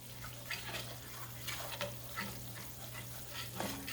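Flour browns in hot roast chicken drippings and fat in a pan for gravy, a steady close sizzle broken by soft scraping and stirring strokes from a spatula.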